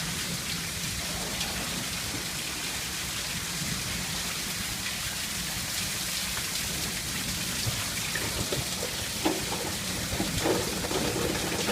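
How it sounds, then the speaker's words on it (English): Heavy rain pours steadily outdoors near a pool, making a dense, even hiss with scattered drop impacts that stay loud and constant throughout. "I think I still love the rain."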